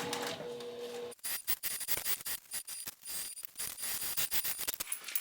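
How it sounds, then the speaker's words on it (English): A sewing machine basting and top stitching a fabric bag lining, first in one steady run, then in choppy short bursts with clicks and pauses, close and fairly quiet with no voices. "So I want to base all the way down this side, and then come down here to the lining, top stitch, and then baste all the way back"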